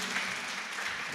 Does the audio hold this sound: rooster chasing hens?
no